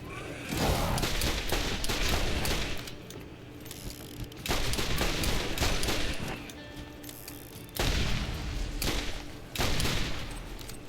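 Revolver gunfire in Borderlands fires in repeated loud bursts of shots, clustered volleys with short gaps, heavy thuds mixed in, and no voices.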